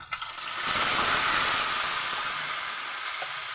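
Pork liver marinated in soy sauce with onion and pepper fries in a hot pan, a broad steady hiss rising after a brief start and holding loud and close to the end, with no voices.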